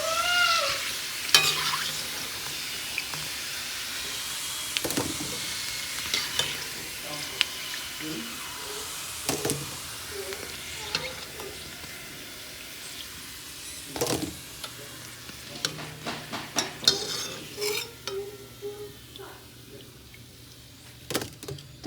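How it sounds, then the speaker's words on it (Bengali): Fuchka puri shells deep frying in hot oil, a steady low sizzle with scattered clinks and taps of a utensil throughout, fairly quiet and close, with occasional brief voice sounds in the background. "তো সব ফুচকাগুলো আমি এইভাবেই ভাজা করে নেব।"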